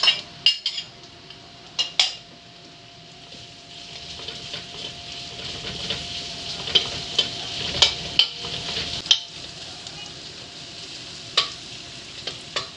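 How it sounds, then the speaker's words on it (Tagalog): Onion sautéing in a pan for laing, a Filipino taro leaf dish, with a soft continuous sizzle under repeated sharp clinks and scrapes of a utensil stirring against the pan. "Lagay ko na rin itong sibuyas."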